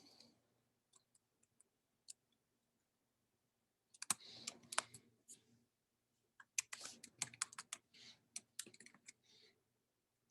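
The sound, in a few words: typing an email on a computer keyboard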